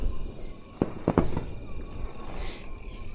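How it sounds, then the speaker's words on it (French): Fireworks going off outdoors at night in Bali ahead of an independence celebration: a few sharp distant pops and cracks in quick succession over steady ambient background noise. "Il y a des feux d'artifice!"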